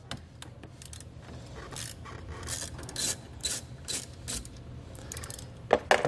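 A socket wrench ratchets while loosening a nut during installation of a Redarc Tow-Pro Liberty brake controller on a 2018 Kia Sorento, giving a series of close, quiet clicking and rasping bursts in an uneven rhythm, with no voices.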